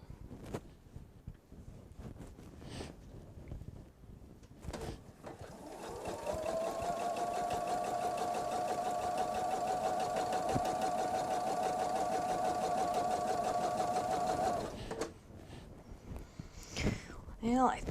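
A sewing machine stitches fabric in a steady, whirring run of about nine seconds, with quiet handling noises and faint murmured talk before and after.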